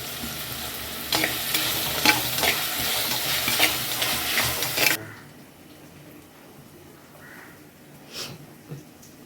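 Curry leaves crackle and sizzle loudly in hot oil for a fish curry, with stirring clatter for about five seconds before the frying abruptly quiets to faint kitchen sounds and a few light knocks.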